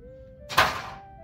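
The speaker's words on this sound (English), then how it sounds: "as you hear the loud plastic plop in the ground in the back" A plastic Pokémon card pack from a Zapdos EX box drops to the ground, one short dull plop with a quick fade, faint and heard in the background.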